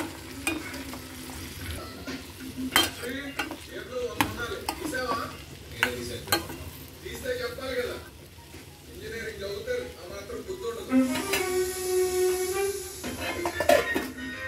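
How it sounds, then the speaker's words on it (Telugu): Green beans curry stirred in a pan over a low flame, with repeated scraping knocks of the spoon against the pan in an uneven rhythm over a steady soft sizzle, close and moderately loud, the sizzle briefly rising near the end. "బీన్స్ వేసేసామండి, కలుపుకుందాం"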